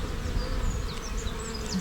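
Honey bees buzz steadily around an open split-box hive during an inspection, a dense close drone with small flying bees whining past, no talk.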